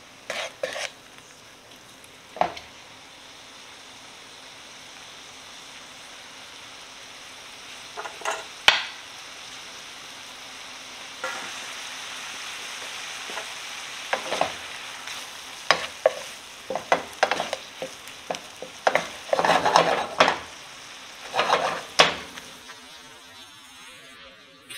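Shrimp cook in a hot pan with a soft, continuous sizzle. Irregular clinks and scrapes of a utensil stirring against the pan break in, sparse at first and then thicker toward the end. No voices are heard.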